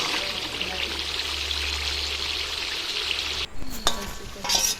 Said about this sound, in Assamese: এতিয়া মছলাটো এইটো তেল এৰিব লাগিব, এনেকৈ অকণমান উতলাই দিছোঁ।